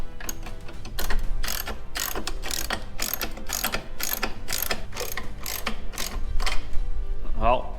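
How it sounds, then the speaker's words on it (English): A ratchet wrench tightens nuts and washers on U-bolts for a chainsaw mount, giving rapid bursts of close, loud clicking that repeat in a steady rhythm with brief pauses between strokes. "So we're just gonna tighten these up."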